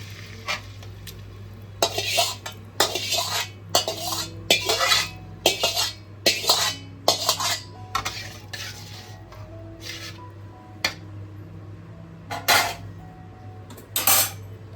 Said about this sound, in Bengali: সেদ্ধ করে রাখা ডালটা মিশিয়ে দিচ্ছি